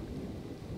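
Steady rain with a low rumble of thunder fills a prehistoric hunting game's storm, a continuous broadband wash at moderate level with no voices.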